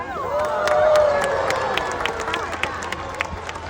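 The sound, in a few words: audience applause and cheering welcoming keeper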